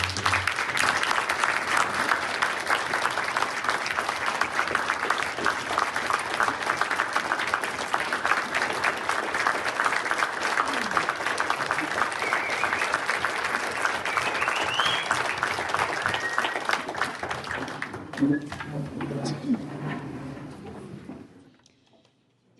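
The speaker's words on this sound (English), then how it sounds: "I think we should give them a really big round of applause" Audience applause for election candidates, loud and sustained clapping from a crowd that continues for about twenty seconds before tapering off and fading out.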